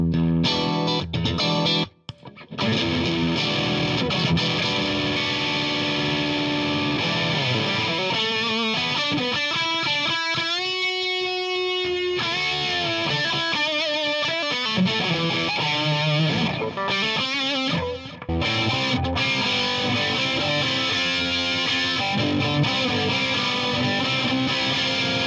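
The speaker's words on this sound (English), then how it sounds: "Now we'll try a balls to the wall distortion." An electric guitar played through a small hand-soldered Wangs Mini 5-watt tweed-style tube amp with a heavy, saturated distortion pedal, sustained chords and held notes ringing loud and thick, with no talking.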